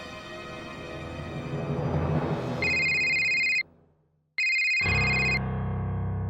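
A phone ringtone plays, a steady electronic ring that cuts off briefly and then resumes, loud and close over a busy musical background.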